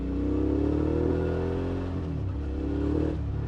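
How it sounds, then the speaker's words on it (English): A 2019 Suzuki V-Strom 650 with a Delkevic exhaust revs its V-twin engine, a strong, steady throaty drone that rises and falls in pitch as the rider accelerates, with no voices over it. "You open up that V-twin, you listen to that Delcovic exhaust"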